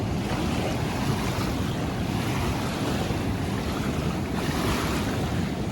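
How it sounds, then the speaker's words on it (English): Continuous rushing waves breaking close by, mixed with steady wind buffeting the microphone, no voices. "there's a bunch of waves, so it's kind of like I'm by the ocean,"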